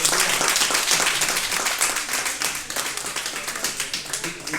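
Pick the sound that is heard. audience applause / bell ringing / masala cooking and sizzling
audience applause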